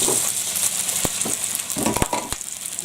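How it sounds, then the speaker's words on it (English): Parboiled, fluffed-up roast potatoes sizzle steadily in hot goose fat, a continuous close hiss broken by a few sharp clicks and knocks as they are turned and coated. "There we go, nice sizzle on them."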